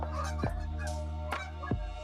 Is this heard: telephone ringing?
no